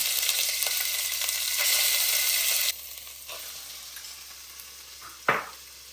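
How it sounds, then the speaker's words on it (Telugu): Ginger-garlic masala sizzles in hot oil for chicken curry, a bright steady frying hiss that drops partway through, followed by a few light clinks and a brief stirring scrape near the end, no voices. "ఆయిల్ హీట్ అయింది. ఇందులో అల్లం వెల్లుల్లి మసాలా"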